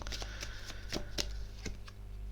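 Tarot cards being laid down and slid over one another on a table, a quick run of soft papery slaps and flicks, close and fairly quiet, with no voice.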